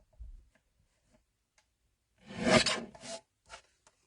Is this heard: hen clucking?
no